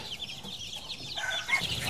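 Roosters on a gold chicken farm cluck and chatter in a busy, continuous flock noise, fairly close and moderately loud, with no talk over it.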